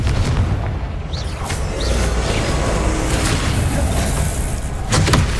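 A Confringo fire spell from the video game Hogwarts Legacy explodes with a loud, sustained, rumbling boom that fills the whole stretch, with brief flares of crackle near the end.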